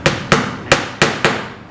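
Five sharp, loud hammer blows drive finishing nails through small pads into wood, spaced irregularly about a third of a second apart, each strike ringing briefly before the next.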